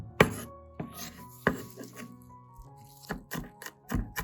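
A knife chops fresh garlic on a board in a few sharp, irregular strikes, some louder than others, with light clatter between them.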